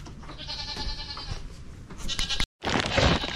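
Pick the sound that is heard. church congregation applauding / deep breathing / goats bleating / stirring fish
goats bleating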